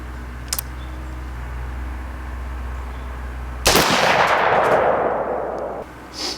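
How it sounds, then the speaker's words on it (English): A single loud rifle shot, fired unrested while aiming through a digital day/night scope with rangefinder, cracks sharply close by over a low steady hum and rings out for about two seconds as it fades. "I'm gonna go ahead and take another shot now"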